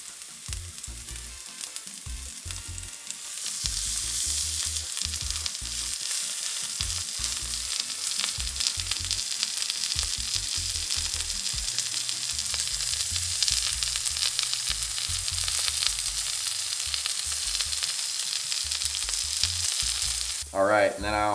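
Red snapper pieces sear in a hot oiled pan, pressed down lightly, giving a steady, loud sizzle that swells after a quieter start and runs on with low clatter from handling underneath.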